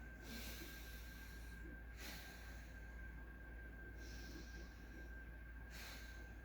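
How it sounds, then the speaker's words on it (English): A person takes slow, deep breaths close to the mic, with about four long airy inhales and exhales spaced evenly over a low steady hum. "go ahead, breathe with me."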